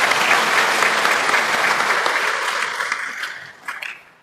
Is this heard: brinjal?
no